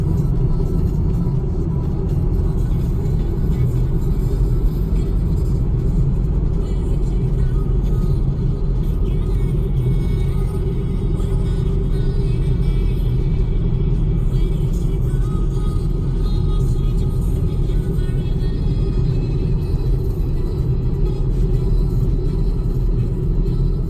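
Steady low rumble of a car driving, heard from inside the cabin on a trip through Moscow, a continuous even road and engine drone with no clear speech.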